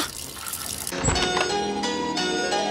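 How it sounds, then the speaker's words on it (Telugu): Water from a leaking tap falls into a sink. A bright metallic plink is followed by a faint, continuous trickle and splashing, close by and quiet. "అది అలా కారుతూ ఉంటే సింక్ లో పడుతున్నట్టు లేదు"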